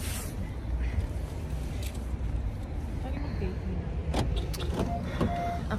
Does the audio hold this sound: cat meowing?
no